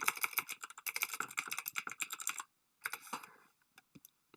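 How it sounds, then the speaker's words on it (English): A computer keyboard typing a web address, heard as a quick, close burst of clattering keystrokes, a brief pause, then a shorter burst and a few final isolated taps. "So I'm going to type this in my browser."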